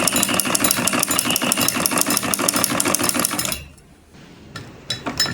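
A sewing machine stitches cloth in a fast, steady mechanical rhythm for several seconds, then stops abruptly, leaving near quiet broken by a few faint clicks and brief restarts.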